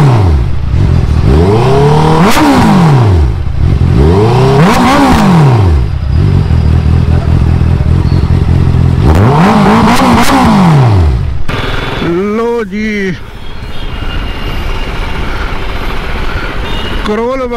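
A used Honda CBR 650F superbike in a Delhi street bike market revs loudly and up close, with three long sweeping throttle blips followed by a quicker burst of sharp revs.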